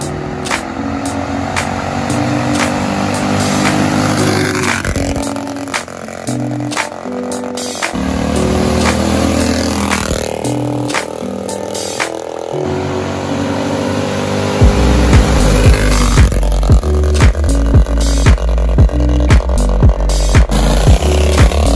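Bandolero race car driven on a street, a loud close small engine droning and revving steadily with shifting pitch, growing heavier and rougher in the last third.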